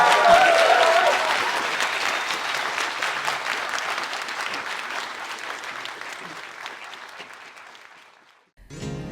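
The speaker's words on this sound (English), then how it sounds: "Big round of applause, please." Audience applause fills a hall after a guest appearance by a voice actress, starting loud and dense and slowly thinning over several seconds before a brief pause and a renewed burst.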